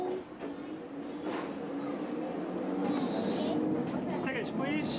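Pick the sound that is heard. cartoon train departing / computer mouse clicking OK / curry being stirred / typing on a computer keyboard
cartoon train departing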